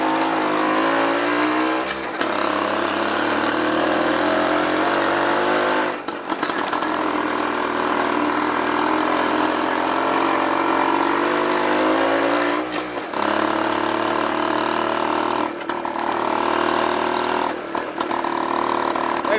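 A 1956 BSA Bantam Major motorcycle runs loud and close while being ridden, its small single-cylinder engine buzzing steadily with rising and falling revs and a few brief dips as the throttle shuts off between gears.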